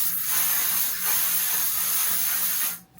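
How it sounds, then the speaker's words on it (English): A One Size makeup setting spray misting out in two long, loud, close hissing bursts that stop abruptly near the end. "Now I'm just about to spray with this One Size setting spray"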